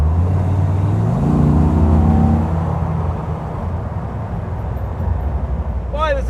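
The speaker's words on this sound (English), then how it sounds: "Boy, this is a nice driving car." A 60-year-old wood-bodied car drives along, its engine note climbing through a gear before settling into a steady cruising hum with road noise. A voice cuts in briefly at the very end.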